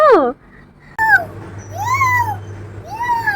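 A cat meows several times, close and clear, with rising and falling drawn-out calls, while a person talks at the start.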